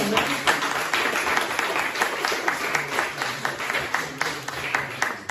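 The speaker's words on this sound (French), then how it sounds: "Alors on les applaudit, hein." Church congregation applauding during a service, a close, lively burst of many hands clapping with a few individual claps standing out, sustained throughout with faint voices beneath.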